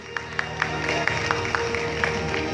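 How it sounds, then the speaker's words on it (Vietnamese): An audience claps for the winners at a Vietnamese beauty pageant crowning in the United States, steady applause with occasional sharper claps standing out over a sustained musical backing. "Những tràng pháo tay của quý vị để khích lệ cho những nàng Hoa hậu của chúng tôi."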